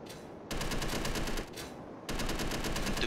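Rapid automatic gunfire in the Space Engineers video game, loud sustained bursts of fast regular shots with a short pause between them, no voices.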